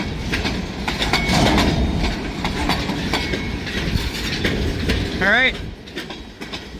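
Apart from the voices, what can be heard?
vintage freight train running on the track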